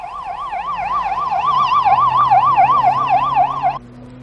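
A loud, near ambulance siren wails in a fast, even up-and-down pattern for almost four seconds, then cuts off abruptly and leaves a low engine hum.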